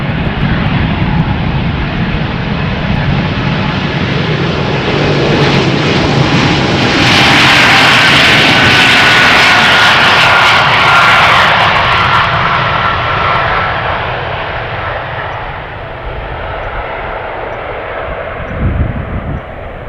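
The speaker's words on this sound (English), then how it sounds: "the E2 Embraer also spooling up, ready to go." Embraer E2 jet engines spool up at Amsterdam Schiphol, a loud, steady roar with a rising whine that peaks midway and then eases to a lower rumble.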